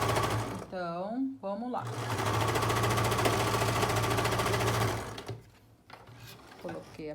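A sewing machine runs steadily for several seconds, stitching the side seam of a viscose beach cover-up, then stops; someone speaks briefly before it starts and there are handling noises afterward.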